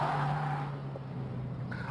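Toyota MR2 Spyder tires squealing with mild understeer as the car is pushed too quickly into a corner, a sustained high whine over the engine drone that fades after a second, close and fairly loud.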